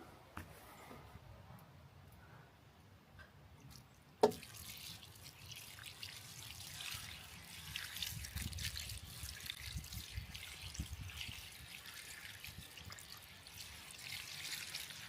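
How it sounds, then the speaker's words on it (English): Faint trickling water after a sharp knock, a quiet steady splashing pour onto wax begonias in a churchyard planter, continuing at low volume. "We'll go back to the planter and put some more water on it."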